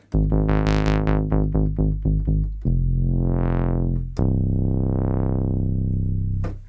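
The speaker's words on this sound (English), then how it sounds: "the first one is a standard subtractive bass voice here, using a square and a saw" A buzzy modular synthesizer subtractive bass, using square and saw waves, plays a quick run of plucked, staccato notes, then two long held notes whose filter sweeps slowly open and closed.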